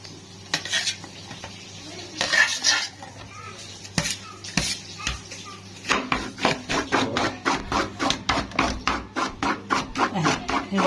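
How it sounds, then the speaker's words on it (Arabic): Boiled taro being grated on a hand shredder, a run of quick, evenly spaced rasping scrapes that grows steady and rhythmic in the second half, following a few scattered knocks and handling sounds close by. "اخرطه بقى كله واخلصه واوريهولكم حبايبي بعد ما اخرطه"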